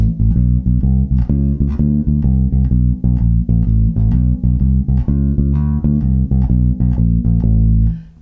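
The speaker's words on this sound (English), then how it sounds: "we're gonna get this walking style bass line at the end of it" A walking-style bass line on bass guitar, steady even notes stepping through low pitches with a three-note chromatic run, played alone at a constant loud level before fading out at the end.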